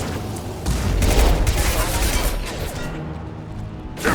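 Bursts of gunfire in the video game Mass Effect 2, rapid overlapping shots and crashes that swell and fade over a few seconds, with sharp reports near the end.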